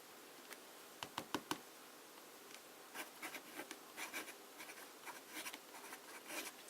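Conway Stewart fountain pen scratching across paper in short strokes: a quick cluster of sharp scrapes near the start, then a longer run of softer, irregular scratching, faint and close with no talking.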